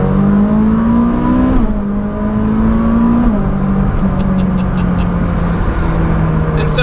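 Ferrari 488 Pista engine pulls hard, its tone rising in sweeps and dropping at gear changes, loud, close and continuous.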